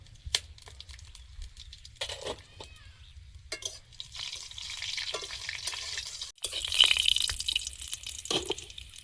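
Whole garam masala (bay leaf, cardamom, cinnamon, cloves) and five-spice seeds crackle and fry in hot oil for a moulash-and-lau mug dal curry, with stirring scrapes and irregular spattering that grows louder toward the end, no voices.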